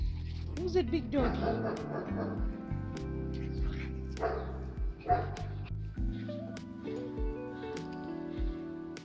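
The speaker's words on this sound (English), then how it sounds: "Who's that big dog?" A dog gives scattered barks and yips close by, mixed in with people talking and a tonal background that sounds like music.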